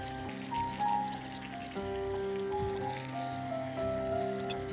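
Chicken pieces go one at a time into a simmering Bengali-style gravy, giving a steady wet bubbling and sizzling hiss with soft intermittent plops, moderately loud and close, with no talking.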